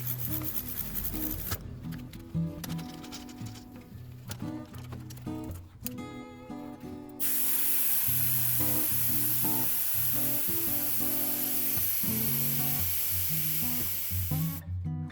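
Air hisses steadily out of the valve of a big fat bike tyre, a loud continuous rush that starts partway through and holds to the end, with clunks and handling noises before it.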